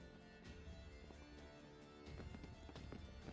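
Horse hooves clip-clopping during riding in The Witcher 3 video game, a quiet rhythmic run of hoofbeats over game music and ambience, growing slightly denser toward the end.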